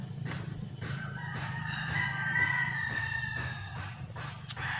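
A rooster crows near a garden plot, one drawn-out call rising over a soft low hum, with faint background noise and a brief sharper sound near the end.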